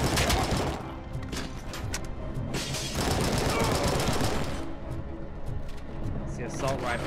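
Assault rifle fire in the video game RoboCop: Rogue City, dense rapid bursts of shots that run nearly continuously and loud, with someone talking over the shooting.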